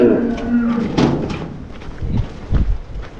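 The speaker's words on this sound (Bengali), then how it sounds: "এই যে গাইস আরেকটা গরু বের হইতেছে" A Qurbani cow mooing at a cattle farm gives a loud, drawn-out low call. Further thuds and rustles follow from the cows being led out.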